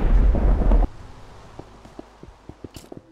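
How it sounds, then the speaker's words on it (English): Thunder from a video game rumbles loudly in a heavy burst at the start, then cuts away to quieter patter of rain with scattered light taps and drips. "Yeah, after that lightning bolt I realised it was raining."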